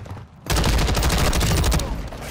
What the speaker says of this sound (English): Someone shooting hella close